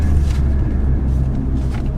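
A Renault Megane RS drives on the road, heard from inside as a loud, steady low engine and road rumble with no talking.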